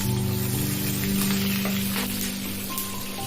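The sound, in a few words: green chillies frying in oil for gongura dal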